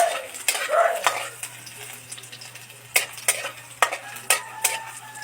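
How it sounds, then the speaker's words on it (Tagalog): Garlic sautéing in oil in a pan with a bright crackling sizzle, punctuated by a series of sharp scraping and clinking strokes as a utensil stirs it. "Ilagay natin ng bawang."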